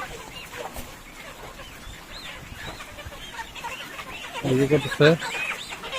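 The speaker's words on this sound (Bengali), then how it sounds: "এখান থেকে মুরগি ধরে করে নিয়ে যেতেছে" Chickens on a poultry farm cluck and squawk in short agitated bursts as workers catch them, louder near the end, with people talking nearby throughout.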